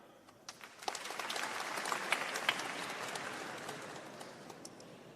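Audience applause at a 2022 graduation ceremony, a soft, somewhat distant patter of many hands that swells briefly and then gradually thins out.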